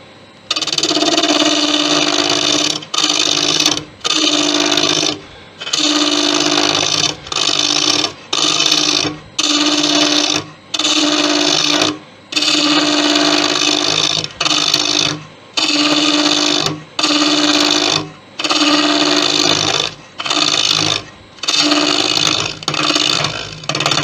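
A ball gouge cutting deep inside a Thai redwood vase spinning on a wood lathe: steady, loud whirring scrapes with a humming ring, broken into short repeated passes by brief pauses.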